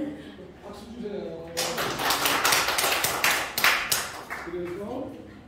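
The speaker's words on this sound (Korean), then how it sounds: "박수 주세요." Audience applause at a school parent training lecture in a hall, a spread of many hands clapping that rises after a voice, holds for a few seconds and fades as the speaker resumes talking.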